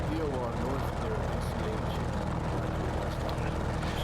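Propeller engine of an F4F-4 Wildcat in a flight simulator, a constant droning hum at steady volume throughout, with a voice speaking faintly over it.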